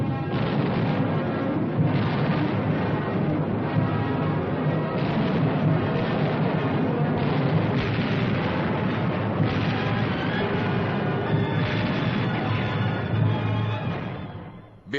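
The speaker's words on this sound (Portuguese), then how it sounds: "O dia todo e a noite toda os canhões estrondam." Artillery cannons firing on Berlin as a documentary sound effect, a dense, continuous rumble of booming blasts and crackling bursts, loud and sustained before fading at the end.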